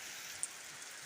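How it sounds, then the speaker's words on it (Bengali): Steady rain falling after a long dry wait, a soft even hiss of drops on surfaces with one brief faint tap, fairly quiet and continuous. "অনেক প্রতীক্ষার পরে বৃষ্টি শুরু হয়েছে।"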